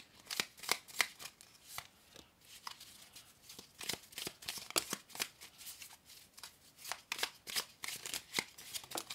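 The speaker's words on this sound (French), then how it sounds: "je vais les mélanger" Oracle cards are shuffled by hand, a quiet, close series of quick papery riffles and flicks in an irregular rhythm that keeps going throughout.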